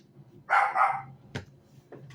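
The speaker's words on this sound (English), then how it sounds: "They try to come up to the door and she barks and scares them off." A dog barks at critters near a door: two quick close barks in succession, then two fainter, sharper yips a moment later, over a quiet room with no talking.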